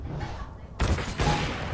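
Gunfire in a Counter-Strike match at a DreamHack Anaheim 2020 final, a dense burst of rapid shots erupting loudly after a quieter opening, with commentator chatter faintly underneath.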